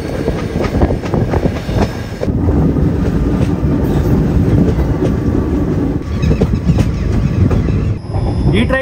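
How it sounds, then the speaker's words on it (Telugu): A goods train hauled by two WAG-7 electric locomotives running in parallel rolls past close by, a loud steady rumble with wheel clatter throughout and a brief dip near the end. "గూడ్స్ ట్రైన్ అనమాట. వ్యాక్ 7 లోకోమోటివ్ తో నడుస్తుంది."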